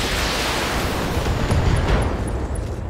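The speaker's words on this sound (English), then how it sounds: "Ammo bay explosion." A loud, roaring burst from a mech's ammo bay exploding in BattleTech fills the clip, a dense rumbling blast with crackling debris and no talking.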